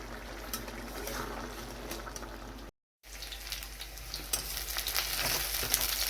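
Onions and panch phoron sizzle in hot tempering oil, a steady broadband frying hiss with faint clinks, broken by a brief silent gap before the sizzle resumes, slightly louder.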